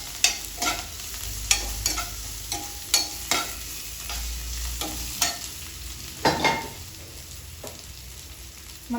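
Coriander and ginger-garlic paste frying together in a pan for masala dosa filling, with a soft, steady sizzle broken by repeated sharp spoon-scraping stirs.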